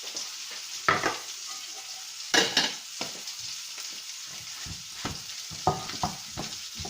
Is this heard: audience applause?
no